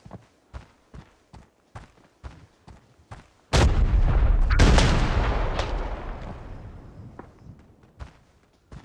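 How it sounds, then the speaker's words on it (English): A grenade blast in the shooter game Arena Breakout bursts loud and close with a long decaying rumble, preceded and followed by a string of rhythmic footsteps. "Trying to hit him with a nade."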